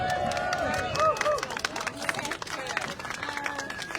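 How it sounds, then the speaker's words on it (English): Crowd clapping and cheering at an outdoor Extinction Rebellion climate protest at Farnborough Airport, a dense, steady burst of applause lasting throughout, with babble mixed in. "So please give a big round of applause to Anna Hughes."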